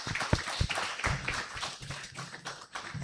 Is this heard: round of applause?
yes